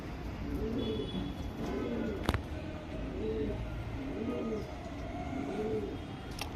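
A male Sabja pigeon coos close by, giving about five rounded, repeating coo phrases at an even rhythm over a low background hiss, with one sharp click partway through.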